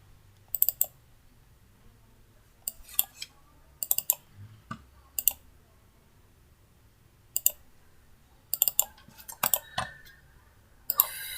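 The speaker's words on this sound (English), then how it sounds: "I'm gonna click on OK and again open the file." Computer mouse clicks while working in SW Road V2 Professional road design software. Sharp, close single and double clicks come in sparse clusters over a quiet room hum.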